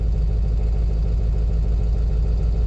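A Ford 7.3 Powerstroke diesel engine, on a 1999–2003 truck with low high-pressure oil pump pressure, idles in a constant, even low drone that stays close and loud throughout, with no voices.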